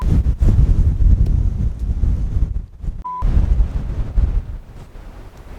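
Gusty wind sweeps across an open disc golf field and buffets the microphone in heavy low rumbling bursts, easing briefly midway before picking up again, with no talk.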